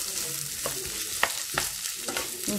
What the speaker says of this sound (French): غادي نزيد عليها الفلفله حتى هي تشحر